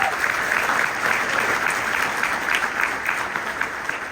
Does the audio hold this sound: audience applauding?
yes